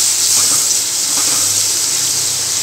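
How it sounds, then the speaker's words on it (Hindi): Tomatoes frying in an onion, ginger and garlic masala for halwai-style aloo gobhi, a steady loud hiss of sizzling oil running throughout with no pauses and no voices. "अब हम इसमें अपना टमाटर डाल देंगे। और इसे भी मसाले के साथ ही भून लेंगे।"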